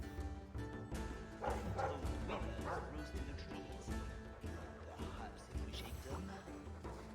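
A dog in the Dragon Age 2 game barks and yips in a string of short calls amid game ambience and music, with a person talking over it.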